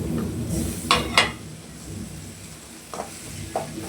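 Tomatoes tipped into a pan of lightly frying onions for puffed-rice upma, with a steady sizzle, a couple of sharp spoon-and-pan clatters near the start and a few lighter scrapes later, no talk.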